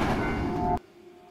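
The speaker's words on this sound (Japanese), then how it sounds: "この電車は死者たちを乗せてもうすぐ出発するみたい。" A train about to depart in the horror video game Shin Tsugunohi gives a loud, steady mechanical rumble that cuts off abruptly into near silence.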